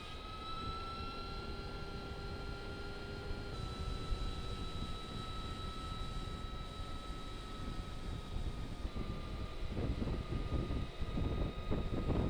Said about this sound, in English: so there was a helicopter just landing there